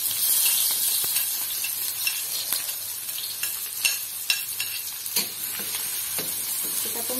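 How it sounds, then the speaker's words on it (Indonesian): Garlic and shallots sauté in a pan with a continuous loud sizzle and hiss, punctuated by scattered scrapes and clicks of a spatula stirring. "Kita tumis sampai layu, sampai harum."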